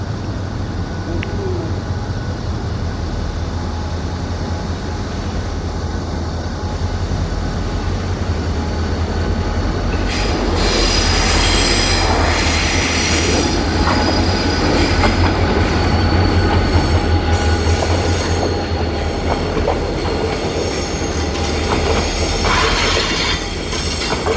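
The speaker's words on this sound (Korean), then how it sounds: "드디어 그렇게 기다리던 갑종회송 열차가 오고 있다." A special rolling stock transfer train on Line 4 passing Geumcheon-gu Office station, a loud, steady rumble of rolling wagons joined midway by squealing wheels and clacking over the rails.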